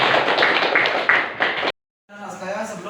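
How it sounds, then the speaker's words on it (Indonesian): A class of students in a school lesson claps in a series of sharp, evenly spaced bursts, then goes silent briefly before a voice begins talking. "Tepuk tangan."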